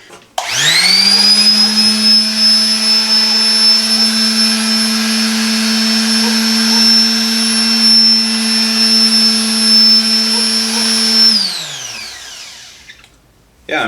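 A compact detail sander for tight spots runs steadily for about eleven seconds at close range, a loud motor whine with a high tonal hum. It spins up quickly at the start, then winds down and stops near the end.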